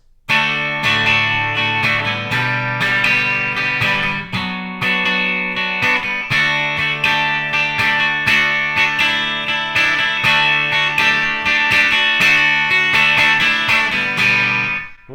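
Electric guitar plays the end of a verse and the interlude of a song, with steady strummed chords and melodic picking, close and continuous, with no voices.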